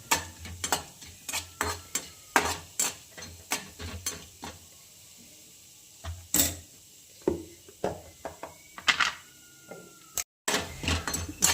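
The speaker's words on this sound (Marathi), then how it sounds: "थोडी हरभऱ्याची डाळ पण याच्यासोबत भाजून घेणार. ते पण छान भाजून घेणार." Chana dal dry-roasted in a pan, stirred with a string of sharp scraping and rattling strokes, close and fairly faint, with a short pause partway through and no talking.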